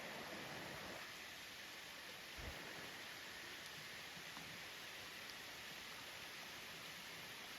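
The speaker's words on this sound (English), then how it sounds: "there's a waterfall up there" Steady broadband rush of a waterfall heard from a distance along a roadside, a constant hiss filling the whole clip with one brief low thump near the middle.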